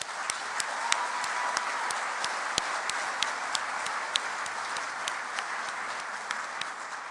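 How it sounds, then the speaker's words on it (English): Audience applause at a Good Friday Agreement event in Belfast, steady sustained clapping from a crowd with distinct individual claps throughout, moderately loud and without talk. "let's give a round of applause for Jamie Lucas"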